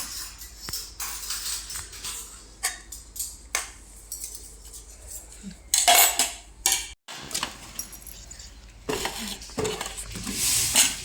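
Spoons and cutlery handled at home while pasta is served, with scattered metallic clinks and scrapes in irregular bursts, close and moderately loud, with a brief gap of near silence midway.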